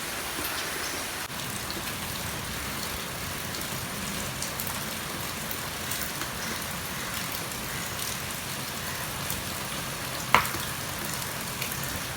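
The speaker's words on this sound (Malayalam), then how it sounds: "ഇത്തവിടെ ചെമ്മീൻ പൊരിക്കുന്നുണ്ട്." Steady broadband sizzling hiss of prawns frying in a pan, continuous throughout with a brief sharp click near the end.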